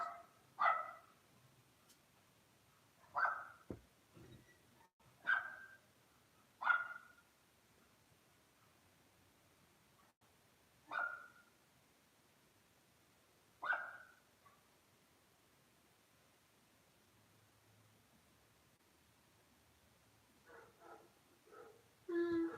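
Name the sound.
neighbor's dog barking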